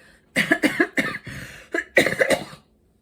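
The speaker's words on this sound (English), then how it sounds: "I'm experiencing a chesty cough." A series of wet, chesty coughs from a person recovering from cancer surgery, in close succession, loud and near, with short gaps between bursts before falling silent.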